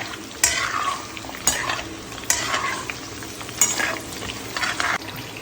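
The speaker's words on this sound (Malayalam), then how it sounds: "ഒരു ഇച്ചിരി ഒന്ന് മൂത്ത് വരുമ്പോഴത്തേക്കും നമുക്ക് സവാള ഇട്ട് കൊടുക്കാം." Sliced onions with curry leaves frying in oil for a soya chunk curry, a steady close sizzle broken by periodic scraping stirs of a spoon against the pan.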